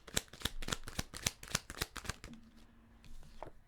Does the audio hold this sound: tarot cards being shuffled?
yes